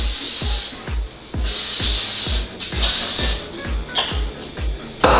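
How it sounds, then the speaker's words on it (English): Canola oil cooking spray hissing onto a pan in a rapid string of short bursts, close and fairly loud, with small clicks between the sprays. "So I'm gonna go ahead and spray everything down."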